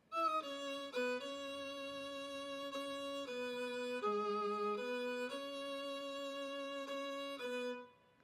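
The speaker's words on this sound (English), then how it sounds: "that bit of grittiness, that slight electric guitar feel without outright getting rid of the violin sound" A violin melody through an amp simulator on the bus track, with a gritty, slightly distorted amplified tone, sustained bowed notes moving stepwise, fairly quiet and alone.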